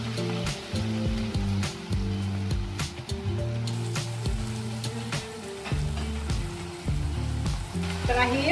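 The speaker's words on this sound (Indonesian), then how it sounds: "Sekarang kita akan masukkan udangnya." Shrimp going into a pan for butter sauce, giving a steady close sizzle with clattering stirs and scrapes repeating throughout.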